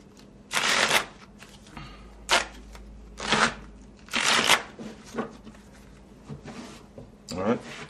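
A deck of playing cards is fold shuffled in the hand, giving a series of crisp riffling bursts and soft slaps at uneven intervals, close and fairly quiet, with a faint low hum underneath.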